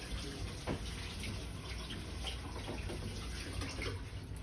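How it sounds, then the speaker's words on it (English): Tap water runs steadily into a sink during hand washing, a continuous close splashing hiss with no talk. "I'm gonna wash my hands off."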